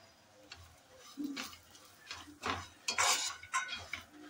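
Whole spices including coriander, cumin, poppy seeds, sesame, cardamom, pepper, cloves and cinnamon are dry-roasted and stirred in a pan for misal masala, giving soft scraping and clinking strokes, close but quiet, no talking.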